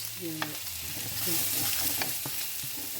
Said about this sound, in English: You cook it up good, and then you mix it, you incorporate it right into a